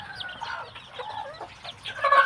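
A Thai gamecock-line hen clucking and murmuring continuously nearby, with soft low background noise.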